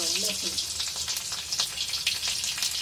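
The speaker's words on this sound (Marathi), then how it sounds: "हे बघा, जिरं कसं फुललं पाहिजे आणि तेल चांगलं तापलं पाहिजे। त्याच्यानंतर लसूण टाकायची।" Garlic sizzling in hot oil with mustard seeds and cumin: a close, steady, hissing crackle of frying that runs continuously throughout.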